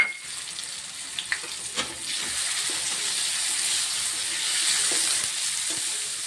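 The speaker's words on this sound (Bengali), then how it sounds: "কিশমিশটা দিয়ে একটু নাড়াচাড়া করব।" Soaked raisins, paneer and peas being stirred in a frying pan produce a soft, steady sizzle with a few light scraping clicks early on, and no voices.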